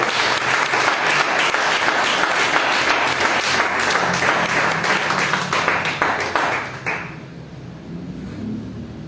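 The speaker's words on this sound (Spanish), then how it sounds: "Dale un aplauso al Señor." A church congregation applauding the Lord during a Sunday service, dense loud clapping for about seven seconds before it stops abruptly, leaving quiet room tone.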